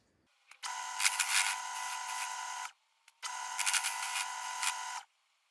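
Cast aluminium hub adaptor for a Ford Escort MK1 being machined: two long, steady high-pitched bursts of cutting noise, each about two seconds, separated by a brief pause, close and loud with no talking.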